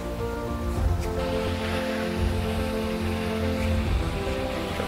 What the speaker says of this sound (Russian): как океан отходит и оголяется